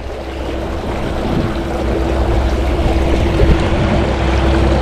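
Strong water current rushes past at low tide, a loud continuous broadband flow with wind and wave noise and no talk.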